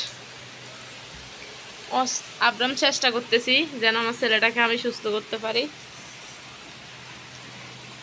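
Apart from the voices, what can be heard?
rain falling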